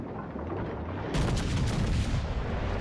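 A premium battleship, the Monarch, fires a main gun salvo in World of Warships Legends: a loud, sudden booming blast about a second in, rolling on over low background rumble.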